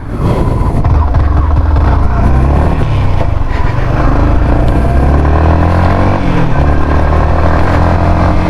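Yamaha XSR 155 motorcycle pulling away in first gear, its engine droning loud and close with a steady rising rev and a constant buzz of exhaust throughout, with no voices.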